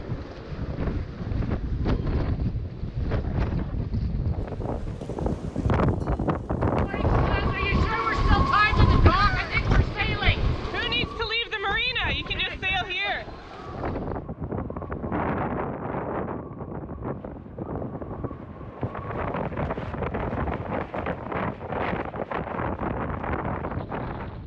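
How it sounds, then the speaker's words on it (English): Heavy 102 km/h wind roars and buffets the microphone continuously on a boat tied at a dock, with rushing water and boat creaks underneath and a voice speaking through the gusts. "another gust comes and pushes the boat over."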